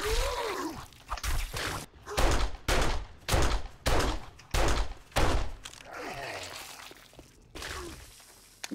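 Gunshots in the zombie survival game 7 Days To Die, a series of about nine loud, sharp shots spaced roughly half a second apart, with a brief voice before and after.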